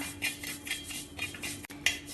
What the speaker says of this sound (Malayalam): ഇത് കുറച്ച് സമയം ഇളക്കി റോസ്റ്റ് ചെയ്യാം.